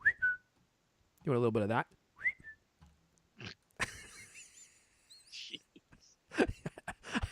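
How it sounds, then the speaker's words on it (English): A person whistles short rising notes and a longer warbling tune in bursts, close and clear, between stretches of speech and other brief noises. "It reminds me of like the whistle that the people on The Walking Dead did."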